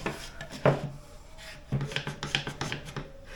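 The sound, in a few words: jigsaw cutting a circle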